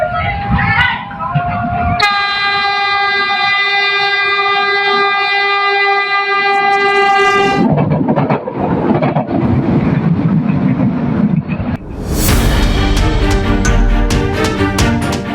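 A Jenggala commuter train in Sidoarjo, East Java, sounds a long, loud horn blast, then rumbles and clatters steadily past close by with heavy wheel and track noise.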